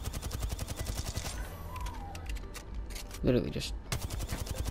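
Gunfire in a shooting video game during recoil-control practice: rapid bursts of shots in dense rhythmic volleys, pausing midway, with someone talking quietly over them.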